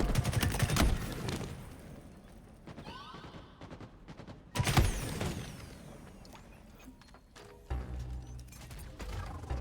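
Competitive Halo Infinite match with faint, distant bursts of gunfire and a few sharp louder shots crackling through, set against a low game ambience and mechanical clicks.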